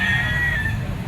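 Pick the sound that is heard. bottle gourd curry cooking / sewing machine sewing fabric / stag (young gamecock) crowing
stag (young gamecock) crowing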